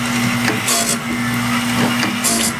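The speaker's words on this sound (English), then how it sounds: "I'll slowly lower the grinder down" A grinder sharpens a sawmill blade, a steady electric whine with a constant hum and brief hissing scrapes as the wheel touches the teeth, fairly close.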